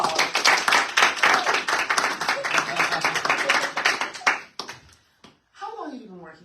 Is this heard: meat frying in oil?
no